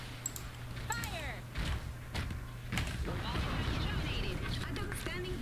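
Mortars fire in the real-time strategy game Iron Harvest with several dull thumps and booms spread through a noisy battle soundscape, while a voice talks over the action.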